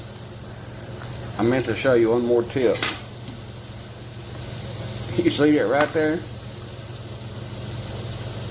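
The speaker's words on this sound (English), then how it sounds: "pardon the noise from the Vena hood running" A kitchen vent hood fan runs steadily throughout while deer meat fries on the stove, a constant low hum and broadband whoosh, with a person talking briefly over it twice.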